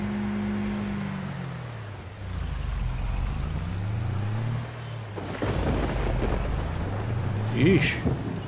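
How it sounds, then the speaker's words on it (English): A thunderstorm with rain in the farming game Farming Simulator 22, heard as a deep rolling rumble of thunder and steady rain hiss under a low droning engine, with a brief voice sound near the end. "thunderstorm"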